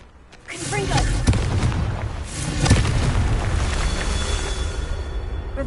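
Confringo blasting spell from the wizarding game Hogwarts Legacy, a booming explosion with sharp cracks and rumbling debris that swells, hits again and keeps roaring loud across the clip.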